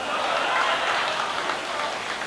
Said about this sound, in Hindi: ये कुंभकर्ण ताली बजा रहा है